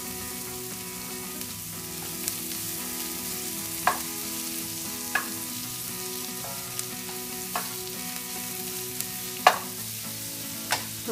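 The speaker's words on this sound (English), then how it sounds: "you really need to get these onions really nice and caramelized along with the mushrooms" Onions and mushrooms caramelizing in a hot pan for patty melts, a continuous even sizzle broken now and then by brief clicks and scrapes of a utensil, close and steady, with no talking.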